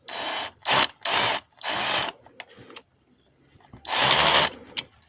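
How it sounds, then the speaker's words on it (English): A high-quality drill bit bores into metal during exhaust manifold repair on a 1.9 Multijet Alfa Romeo engine, giving four loud bursts of drilling of about half a second to a second each, with short quiet gaps and faint clatter between them. "with a good high quality drill bit, there you go."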